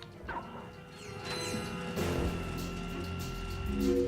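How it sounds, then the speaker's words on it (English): An elevator platform moving in the game Ratchet & Clank: Going Commando, a clanking mechanical start followed by a steady whirring, grinding hum, fairly quiet against a soft game-music background. "And now we've got a little elevator here."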